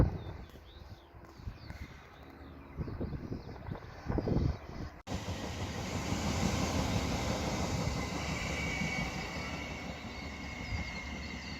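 A train passes on a railway, a steady rumbling roll of wheels on track building to a continuous loud wash after a quieter opening, with no talk.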